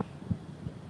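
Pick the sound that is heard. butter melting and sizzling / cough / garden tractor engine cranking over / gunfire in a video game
cough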